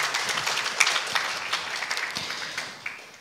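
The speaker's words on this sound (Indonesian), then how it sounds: "Mari kita berikan tepuk tangan yang meriah untuk Ustadz Tontowi." An audience at an Islamic university gathering applauds a speaker, a steady patter of many hands clapping at moderate distance that gradually fades out.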